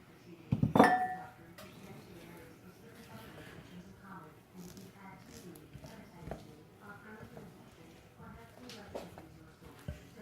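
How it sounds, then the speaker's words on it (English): Pumpkin walnut muffin batter stirred in a bowl, a loud clink of a utensil on the bowl at the start, then soft scraping and mixing under a person talking. "Mix that up really well."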